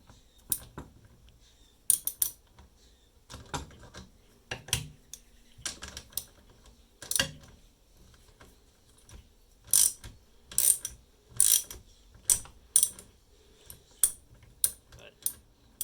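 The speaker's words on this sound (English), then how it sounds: "I'm going to thread the bolts. So, as I turn, it's going to suck this head in." Bolts are threaded and tightened into a wooden kitchen table leg, heard as a series of close, sharp ratcheting clicks and metallic scrapes in irregular bursts with quiet gaps between.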